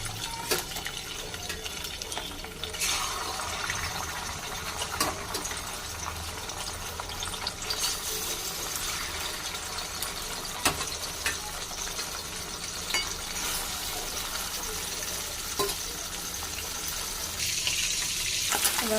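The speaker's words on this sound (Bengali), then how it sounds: "এবার তেলটা গরম হয়ে গেছে, এক একটা মাছটা ভেজে নেব" Pieces of katla fish fry in hot oil, a steady loud hissing sizzle that spreads broad and constant throughout, with occasional sharp spits and pops close by.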